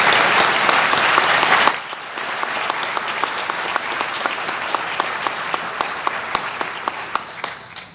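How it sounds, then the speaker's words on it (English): A seated audience at a plenary session applauds award winners, a dense burst of clapping for about two seconds that drops to scattered, sharp individual claps continuing in a thinner patter to the end. "Let's give them a round of applause."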